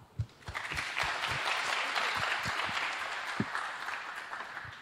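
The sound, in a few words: applause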